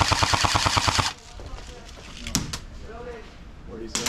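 An LMG airsoft gun fires a rapid, loud burst of about a second, followed by quieter outdoor ambience with distant voices and a few faint pops.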